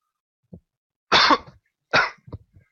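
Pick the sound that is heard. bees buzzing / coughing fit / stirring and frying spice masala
coughing fit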